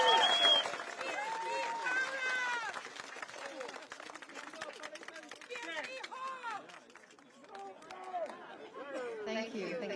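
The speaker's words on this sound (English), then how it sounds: "Means a lot that you cheer for us." A crowd at a Progress Singapore Party rally in a Catholic High School field cheers and claps loudly and continuously, with excited shouts and voices mixed into the noise.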